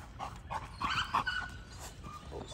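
An American Bully dog whimpers and yelps in short, high, whining bursts with panting between them, close and fairly loud, over a low background rumble and no clear talk.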